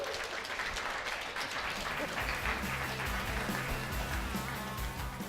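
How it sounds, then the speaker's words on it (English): An audience at a Nerd Nite talk bursts into sustained applause, a dense wash of clapping that stays steady throughout, with voices mixed faintly underneath. "Round of applause."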